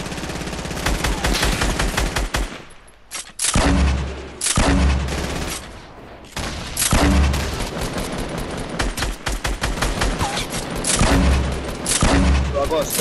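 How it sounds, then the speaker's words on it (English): Video game firefight with grenade launcher blasts and gunfire: loud, dense bursts of shots and heavy booms that keep coming back, with brief lulls between them and people talking over the action. "They just got grenade launchers and they're spamming it."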